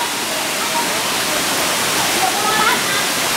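A waterfall swollen by heavy rain roars in a continuous, loud broadband rush, close by and steady, with no break or change across the stretch.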